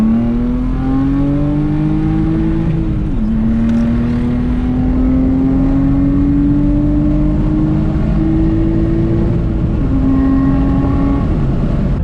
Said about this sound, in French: quand tu es prêt à être lancé, t'accélères comme ici.